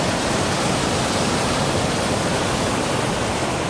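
Waterfall of Molino D'Arena near Camaldoli, a steady, dense roar of falling water that stays constant and fairly loud throughout, heard up close with no voices.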